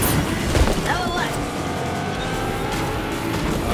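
Taxi engine in Fortnite's Tilted Taxis mode roaring at a steady high pitch during a turbo boost, a loud continuous rush with whooshing sweeps, with a player talking over it.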